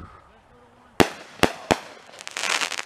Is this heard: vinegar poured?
no